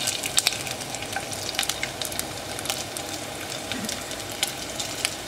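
Sausage sizzles steadily in a pan for broccoli rabe pasta, with scattered sharp scraping clicks as it is broken apart, close and fairly loud with no voices.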